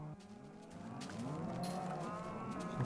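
Game cows keep lowing in a drawn-out, layered chorus of moos over a continuous droning backdrop, fairly quiet and with no voices.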